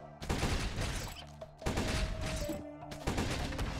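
Gunfire from enemies in the video game Blade Assault, with dense bursts of rapid shots and game effects arriving in clusters, loud and continuous across the stretch.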